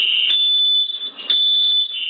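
A smoke alarm goes off after a dog accidentally turns on a stove burner and starts a kitchen fire, sounding as a loud, piercing, steady high tone that keeps blaring with only a brief dip partway through.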